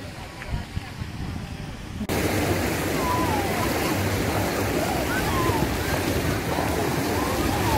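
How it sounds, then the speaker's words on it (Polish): An artificial wave machine in the Mediterranean pool at the Hajdúszoboszló spa in Hungary starts abruptly into a steady, loud rushing surge of water that carries on without a break, with faint distant voices behind it. "w basenie śródziemnomorskim jest sztuczna fala"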